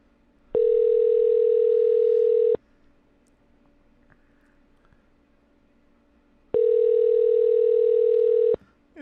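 A steady electronic ringback tone sounds twice, each burst about two seconds long with a long quiet gap between them, clear and close.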